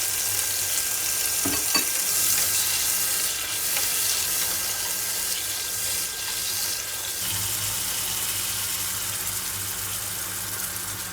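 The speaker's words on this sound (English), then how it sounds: "Now, I will cook the tomato sauce first." Tomato sauce cooks in a pan with a steady, soft sizzle and bubbling hiss, punctuated by an occasional clink or scrape of a utensil, close by and without talk.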